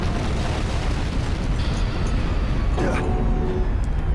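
Monokuma explodes in the Danganronpa game, a loud, sustained roaring blast of dense rumbling noise that fills the whole moment without letting up.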